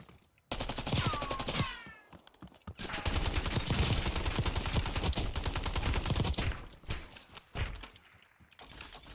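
Enemy gunfire in a video game, loud rapid bursts of automatic shots with brief pauses between volleys and a few clattering impacts, no talking.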